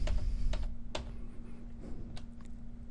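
Computer keyboard keys tapped for Windows 7 cut and paste shortcuts: a few sharp, quiet clicks scattered over a low steady hum, with no talking.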